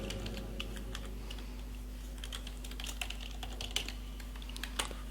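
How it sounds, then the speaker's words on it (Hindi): Quiet, steady typing on a computer keyboard, with light irregular key clicks over a faint constant hum. "यहाँ पे मैं टाइप करता हूँ एम्प्लॉई"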